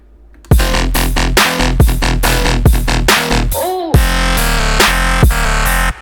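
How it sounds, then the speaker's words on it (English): Serum synth dubstep patch with a pitch-bend modulation: loud, dense growling stabs in a rhythmic pattern, with one sweeping pitch-down dive in the middle, no voices. "I did a pitch bend modulation to create that pitch down effect in here"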